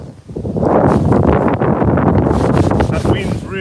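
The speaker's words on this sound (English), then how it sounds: "That wind's really, really picked up now." Strong wind gusts roar across a microphone outdoors beside beehives, a loud, continuous rumbling buffet that swells and holds.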